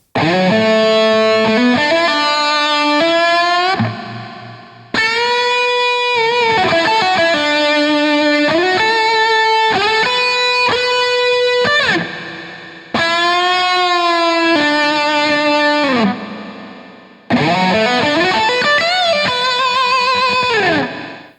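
A distorted electric guitar plays a melodic solo in long bending phrases, loud and upfront, broken by a few brief pauses.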